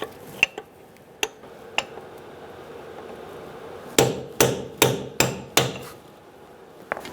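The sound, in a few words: hammering the axle nut lip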